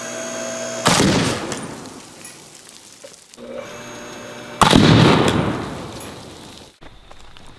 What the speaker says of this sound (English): Yeah, I don't think there is a drop of indium left in that fuse. That just completely exploded.